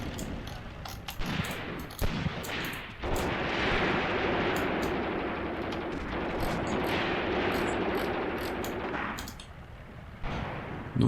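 Tank gun fire and battle rumble in the Tank Warfare: Tunisia 1943 game at Longstop Hill, a sustained roar of artillery and gunfire with sharper reports near the start and end.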